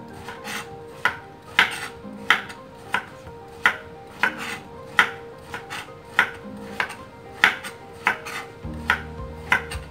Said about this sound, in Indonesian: ini oyongnya kita iris dulu ya guys